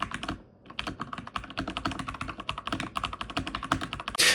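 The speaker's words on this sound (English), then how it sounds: "I will include the sound of the keys of this keyboard right" Fast, continuous clicky typing on a Lorgar Azar 514 mechanical keyboard, close and crisp with a brief pause early on and a louder clack at the end.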